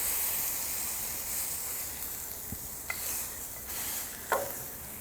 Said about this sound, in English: Hit them with the spatula, press that down.